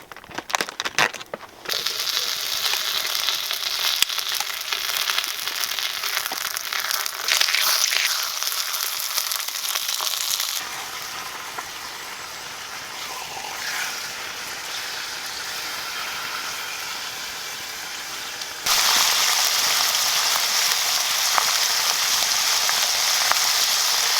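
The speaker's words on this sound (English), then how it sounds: "These thin pans are perfect for just quickly frying meat." Bacon fries in a thin billycan pan while cooking outdoors in the woods, giving a steady, dense sizzle and crackle that runs continuously for over twenty seconds and swells louder near the end, with no talking.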